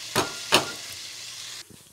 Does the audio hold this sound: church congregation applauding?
no